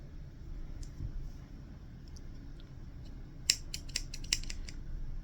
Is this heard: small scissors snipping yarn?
yes